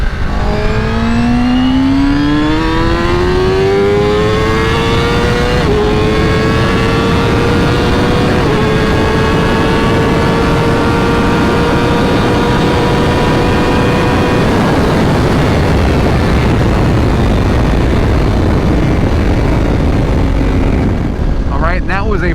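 A stock 2025 Honda CBR1000RR-R SP superbike accelerating from 60 to 130 on a dyno, its engine howling up through the revs in a loud, rising whine with brief drops at each gear shift before fading at the end.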